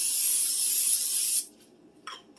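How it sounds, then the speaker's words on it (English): Cooking spray hisses from an aerosol can onto a baking dish in one steady close burst of about a second and a half, followed by a quick faint second puff. "You're going to take your baking dish"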